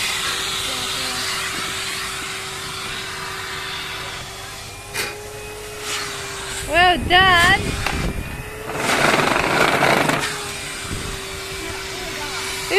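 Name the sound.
Henry Hoover vacuum cleaner cleaning a car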